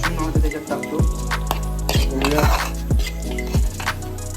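Marinated mushrooms drop into a pan of fried onion-tomato gravy, giving a run of close, wet clinks and taps of utensil on cookware over a soft sizzle, with no talk.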